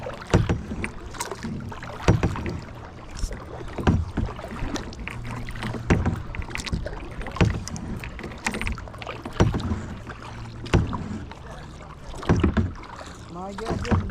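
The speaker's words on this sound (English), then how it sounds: "Paddling around." A kayak paddled across open water, rhythmic splashing paddle strokes at regular intervals with wind noise and occasional talking between strokes.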